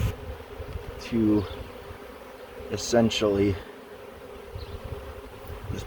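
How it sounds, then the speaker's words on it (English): Honey bees from an afterswarm buzz steadily close by, some fanning their wings, a dense insect drone running throughout with someone speaking briefly over it. "But see the bees, what they're doing now? Some of them are fanning their wings."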